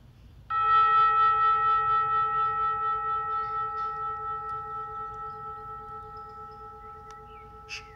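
A gong struck once to close a guided meditation session rings out with a clean metallic tone, then hums and slowly fades in a long, gently pulsing sustain, alone in a quiet room.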